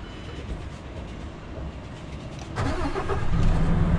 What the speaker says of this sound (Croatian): Nek kamion radi da nabije zraka